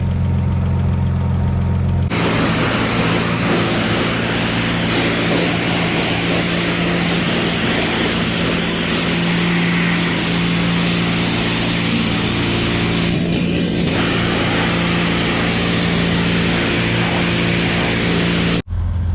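A turbocharged car engine boosting around 30 psi runs steadily and loud close by, a constant droning hum with strong low tones that starts abruptly, holds for about sixteen seconds with a brief change midway, then cuts off.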